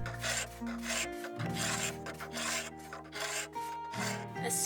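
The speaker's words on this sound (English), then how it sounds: "So we continued with the sanding and scraped by hand." Old wooden windows from an abandoned log house are sanded and scraped by hand, giving rhythmic rasping strokes close up, repeating in bursts over a faint steady background hum.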